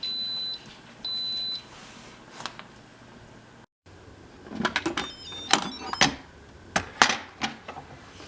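An Instant Pot pressure cooker beeps as it is set, giving a few clear, evenly pitched electronic tones early on, followed by scattered clicks and small handling knocks nearby.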